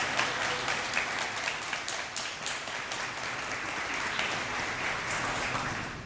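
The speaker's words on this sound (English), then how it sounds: "I would ask that you give them a round of applause." Audience applause at a welcome event, steady dense clapping from a crowd lasting about six seconds at moderate level, with no talking over it.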